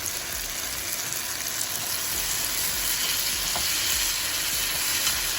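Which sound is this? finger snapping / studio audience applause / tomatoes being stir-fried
tomatoes being stir-fried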